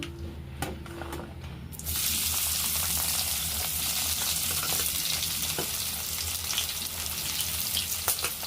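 Onions hit hot ghee with a sudden loud sizzle that starts about two seconds in, after a quiet lead-in, then stay steady and close while a utensil stirs through them now and then.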